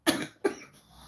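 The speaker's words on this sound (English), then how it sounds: "I still have a little bit of a cough" Two sharp, close coughs come in quick succession from one person, each a short harsh burst fading into quiet.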